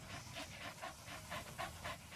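A dog in the video game Metal Gear Solid V pants rapidly and steadily, a close, breathy rhythm of quick huffs with nobody speaking.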